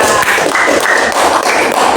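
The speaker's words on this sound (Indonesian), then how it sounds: "Oke, tepuk tangan dulu untuk kelompok 4." Students in a classroom clap for a presenting group, a steady, dense patter of many hands close by, continuous through the short stretch.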